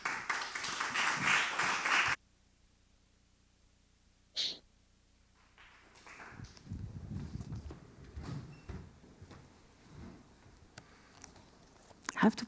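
A short burst of audience applause welcoming a speaker onto the stage at a NIFFF immersive storytelling event, lasting about two seconds before falling quiet, followed by a single knock and scattered voices talking.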